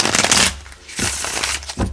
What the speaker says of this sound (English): There's a determination in your shuffle.